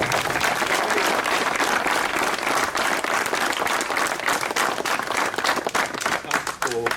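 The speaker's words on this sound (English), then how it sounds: "So I think a round of applause for the two" A crowd at a commemorative trip gathering claps continuously, sustained applause at even strength that thins slightly toward the end as a voice begins.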